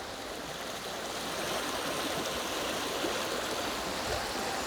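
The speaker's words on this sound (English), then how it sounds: "Look at the power of that water." Steady, loud rushing water, a continuous broadband roar of a fast stream flowing close by with no pauses.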